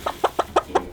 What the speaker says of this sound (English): So get some chickens.